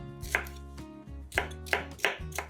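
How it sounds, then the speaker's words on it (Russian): A knife cuts sweet bell pepper into rough pieces on a board, giving several quiet, sharp chops at uneven intervals over a low steady background hum, with no talk. "У сладкого перца вырезаем серединку с семенами. Нарезаем произвольными кусками."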